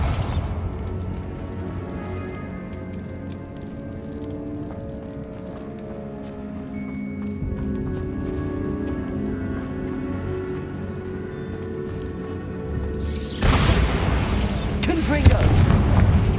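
A Bombarda blasting spell goes off in Hogwarts Legacy as a sudden loud burst near the end, after a stretch of low sustained game music and ambience. A voice is heard in the scene.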